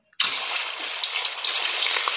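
Boal fish pieces dropped into hot mustard oil in a heated wok, starting with a sudden burst and settling into a loud, steady hiss and crackle throughout, close up with no talking.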